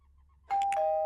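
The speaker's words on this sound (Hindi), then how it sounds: "अरे बजाना घंटी।" A two-tone doorbell chime rings once, clear and close, the second tone ringing on and sustaining over a quiet background.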